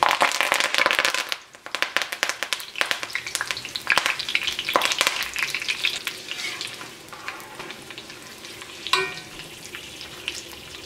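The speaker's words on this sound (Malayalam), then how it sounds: "ഉണക്കമുളകും പിന്നെ കുറച്ച് കറിവേപ്പിലയും ഒന്ന് വറുത്തിട്ട് ചേർക്കുന്നുണ്ട്" Dried red chillies and curry leaves frying in hot oil for a Kerala-style cauliflower chilly fry, giving a loud, dense sizzle and crackle with sharp popping bursts and a brief dip partway through.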